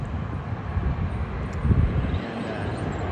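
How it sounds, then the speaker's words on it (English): Airliner coming in to land at LAX, passing low in line with the runway beside an In-N-Out burger restaurant: a loud, broad engine roar that swells slightly midway and holds steady throughout. "Where else do you get a view like that of a plane coming in for landing?"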